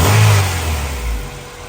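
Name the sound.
Honda Civic with GSR engine swap revving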